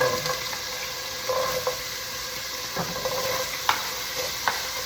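Carrots and celery tumble into a hot pan of chicken, a steady near sizzle with scattered stirring scrapes and small clacks, no voices.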